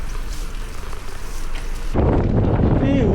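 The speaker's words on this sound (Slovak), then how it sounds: "Zimný vietor fúka." Winter wind gusts buffet the microphone outdoors during a bicycle ride, a rough, loud rumbling roar that grows heavier partway through.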